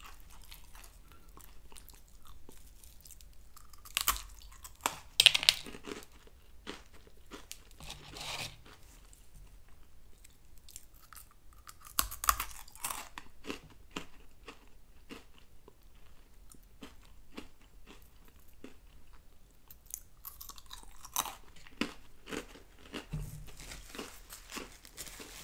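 Whole Grain Wheat Thins crackers are bitten and chewed close up in bursts of crisp, crackly crunching, separated by quiet pauses and occasional soft crinkling of the packaging.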